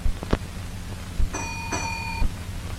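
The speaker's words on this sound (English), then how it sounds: "their receipt is acknowledged by a reply gong" Reply gong of a ship's engine room telegraph from 1941: two bright ringing strikes a moment apart, each with a lingering metallic tone. A few dull knocks come before them against a low background rumble.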